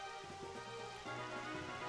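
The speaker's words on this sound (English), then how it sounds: "Rain continues to fall." Rain falls steadily as a continuous dense hiss in Pokemon Stadium 2, a video game battle, quiet and even throughout with a low hum underneath.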